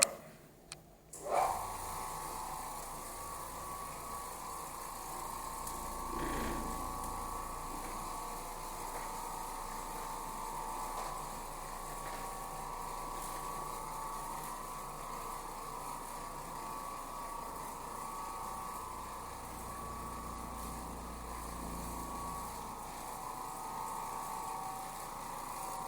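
Oreck Orbiter floor machine cleaning a dirty, worn rental carpet, a steady motor hum with a faint scrubbing whir running continuously at moderate level after a brief knock at the start.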